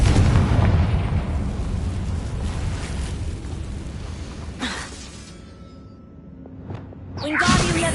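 A Confringo blasting spell explodes in the Hogwarts Legacy video game: a loud broadband burst with rumbling debris that fades to a quieter tail, then a second sharp whooshing blast near the end.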